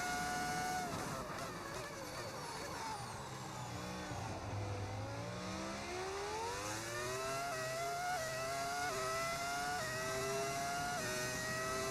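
A modded engine sound from a BMW F125 Formula 1 car in an F1 video game, loud and close, revving steadily with pitch sweeping down and then climbing through repeated gear changes.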